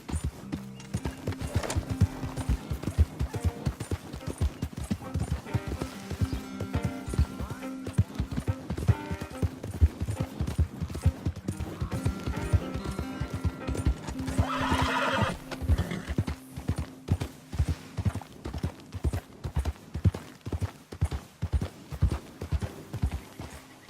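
Hooves clip-clop steadily at a gallop on a horse in the Red Dead Redemption 2 video game, a close rhythmic beat with a horse's whinny near the middle, over game music and ambience.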